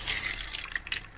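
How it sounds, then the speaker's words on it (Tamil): Seeraga samba rice is tipped into boiling water for mushroom biryani, making a brief close watery rush and splash of a little over a second. "இப்போ நம்ம வந்து சீரக சம்பா அரிசியை போட்டு விடலாம்."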